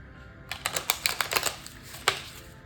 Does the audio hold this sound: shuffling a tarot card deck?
yes